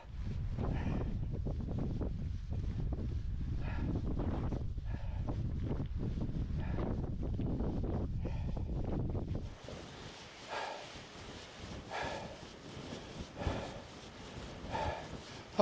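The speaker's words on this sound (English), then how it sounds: "Oh my God, crosswind." Strong crosswind blowing on a bicycle climb up a hill in the Ayrshire Alps, Scotland, a heavy low roaring buffet against the microphone that drops suddenly to quieter gusts and rustle.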